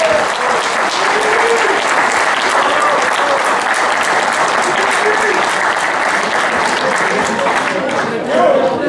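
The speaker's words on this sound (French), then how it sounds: "On peut les applaudir." An audience claps steadily at a hunting competition prize ceremony. The dense, loud applause continues for the full length with faint voices mixed in and eases slightly near the end.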